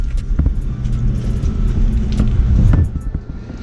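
YCF 190 pit bike with a four-valve Anima engine, big carburettor and Scalvini twin-silencer exhaust rumbles deep and loud nearby, its low throb swelling and easing over a few seconds.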